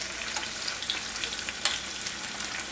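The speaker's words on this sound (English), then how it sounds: "we're just going to saute them so that they get the taste of the butter and the olive oil." Quartered artichoke hearts sauté lightly in butter and olive oil in a pan, giving a steady close sizzle and crackle with a few sharper pops, no voices.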